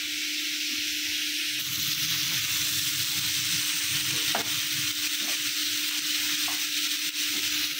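Food frying in a pan sizzles steadily and loudly in a home kitchen, a constant hiss with occasional stirring scrapes and a faint steady hum underneath, no voices.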